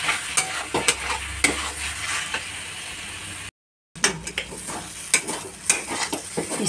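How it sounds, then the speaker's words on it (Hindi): Potatoes fry and get stirred with masala in a pan over medium heat, giving a steady sizzle with repeated scraping spatula strokes and a brief gap in the middle. "आलू को भी इसी तरह अच्छे से भून लेंगे मसाला के साथ"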